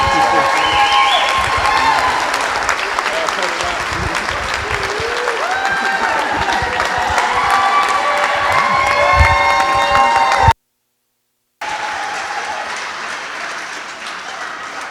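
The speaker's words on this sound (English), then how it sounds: "One more round of applause for all of our speakers, ladies and gentlemen." Audience applause and cheering at a speech event: sustained loud clapping from a crowd mixed with whoops and shouting voices, cutting out briefly before resuming.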